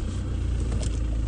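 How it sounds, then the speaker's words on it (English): A 2.0 TDI diesel engine in an Audi Q3 Quattro S Line runs with a steady low rumble close inside the cabin, with no clear start-up surge. "put on the clutch, turn the car on."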